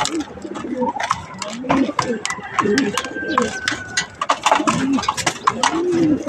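Pigeons at a loft coo in repeated soft, throaty calls close by, overlapping with other bird chirps and light rustling throughout.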